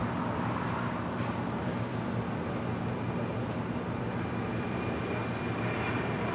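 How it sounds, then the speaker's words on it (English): A JetBlue Airways A321 airliner at Los Angeles International Airport gives a steady broad roar of jet engines, loud and continuous, mixed with distant traffic-like rumble and no talking. "There's JetBlue Airways Flight 524 heading to JFK at A321."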